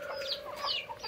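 A mother hen with her newly hatched chicks, giving short soft clucks mixed with high chick peeps in a brief, close burst on a farm.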